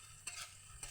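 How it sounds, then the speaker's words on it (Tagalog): Chicken tinola is stirred in a pot over a wood fire, with two short scraping strokes of a utensil against the pot over a low simmering sizzle. "Haluin natin"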